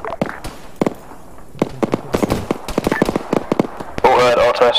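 Sharp, scattered gunshots crack across an airfield in Arma 3, uneven bursts and single reports of varying loudness, some near and some distant, while someone talks over the firing.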